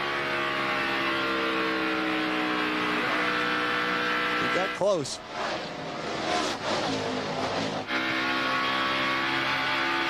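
NASCAR Winston Cup stock cars racing at Atlanta Motor Speedway during the NAPA 500, a steady loud droning engine whine that briefly dips and surges as cars pass, with a commentator speaking over it.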